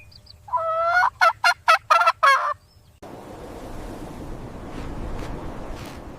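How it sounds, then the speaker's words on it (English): A small black farm turkey gobbles in one loud, close, rapid burst of warbling pulses, followed by a few seconds of windy outdoor noise. "This is a small black farm turkey."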